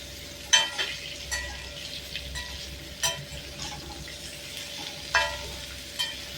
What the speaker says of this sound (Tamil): சிம்மில் வச்சு வதக்கிக்கணுங்க